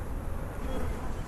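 Honey bees buzzing steadily and densely up close while a hive is being split in spring, a continuous loud hum with no pauses.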